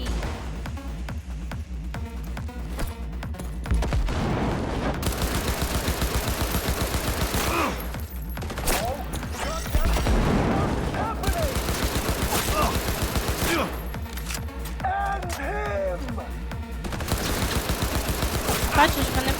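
Gunfire shootout in the video game Cyberpunk 2077: Phantom Liberty, bursts of rapid automatic shots and single cracks in irregular clusters, loud and close, with game music and effects running beneath.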